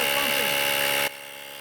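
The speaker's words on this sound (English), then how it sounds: "all I have to do is press this button and it will start pumping" An Auxito AJ01 portable jump starter's built-in pump inflates a Volvo XC40 tire, a steady motorized whir with a brief rising tone that then drops abruptly to a quieter hum.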